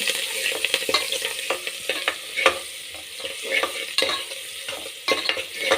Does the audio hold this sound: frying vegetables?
yes